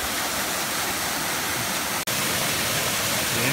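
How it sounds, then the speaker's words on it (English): Pala Munsoh waterfall in Ulu Sarikei, Sarawak, roaring as a steady, dense broadband rush of falling water, close and loud, with one brief dropout midway. "We have reached the third level of waterfall."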